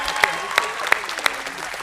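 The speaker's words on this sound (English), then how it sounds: "Let's give them both a round of applause." Audience applause at the University of Montevallo spring 2023 commencement ceremony, a steady wash of clapping from a large crowd with a few sharper claps standing out near the front.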